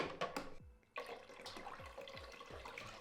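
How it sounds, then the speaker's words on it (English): Water is poured from a bottle into the reservoir of an Incapto Aura espresso machine, a soft close gurgling splash with a brief pause, then steady glugging pulses. "Add some water."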